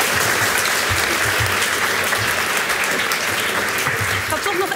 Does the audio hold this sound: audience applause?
yes